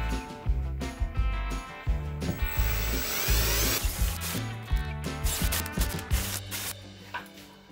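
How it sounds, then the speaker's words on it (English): A power drill bores holes in wood for a DIY diamond painting easel, producing repeated whirring bursts with rhythmic spurts and pauses, close and fairly loud. "so let's drill some holes for that"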